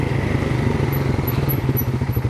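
A quad bike engine runs along a snowy road, a close, rumbling throb with a steady pulsing rhythm throughout the short stretch, alone and without talk.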